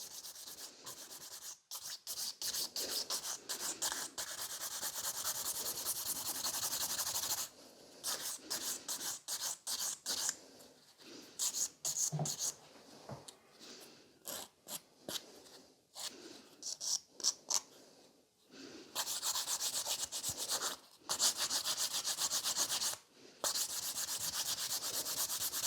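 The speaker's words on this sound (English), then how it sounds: "So by filing like this, we are touching the entire surface of the nail to make it nice and smooth." A hand file rasps over a fiber gel sculpted stiletto nail in quick, close scratchy strokes, with bursts of rhythmic filing broken by short pauses.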